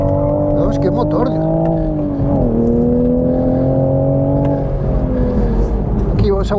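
A manual-gearbox 2023 Toyota Supra engine revs loud and close, its steady harmonic drone rising and falling as gears are held, with someone talking over it.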